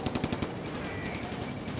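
Machine-gun fire in the wartime strategy game Combat Mission: Afrika Korps, a rapid burst of several close shots at the start trailing into a steady rumbling battle din.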